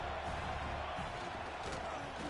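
A stadium crowd in a college football video game, Tennessee against Penn State, gives a steady, dense roar that neither rises nor fades.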